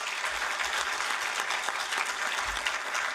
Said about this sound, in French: Sous vos applaudissements pour Monsieur Douiri et Monsieur Lbsri